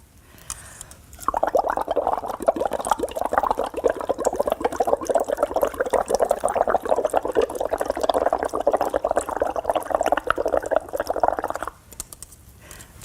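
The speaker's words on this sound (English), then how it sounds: "what happens when you simply blow a little bit of air into the water?" Steady bubbling gurgle of air being blown into water through a tube, continuous and close, lasting about ten seconds before stopping.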